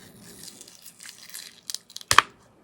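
A small sticker on a Wicked X Woobles crochet kit package is torn open, with faint crinkling of packaging first, then a few brief crisp rips and one louder tear near the end, close and quiet.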